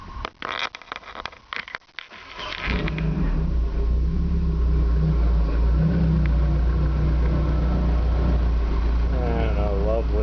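A 1970 Opel GT's 2.4 engine with Motronic fuel injection settles into a steady, low idle after a rough start. The rumble stays loud and even throughout.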